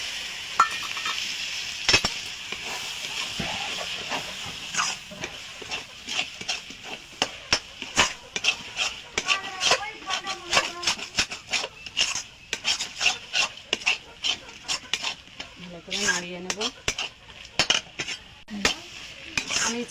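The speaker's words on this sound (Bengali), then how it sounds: "এটা ভালো করে নাড়িয়ে নেব।" A spoon stirs and scrapes through cabbage ghonto with rice-flour paste in a pan, giving a steady run of short rubbing scrapes and metal clinks, close and fairly loud, with no talking.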